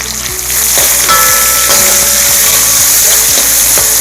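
Small shallots, about ten or twelve, frying with ginger in a pan, giving a loud, steady sizzle throughout with occasional sharper crackles and scraping stirs, no talk.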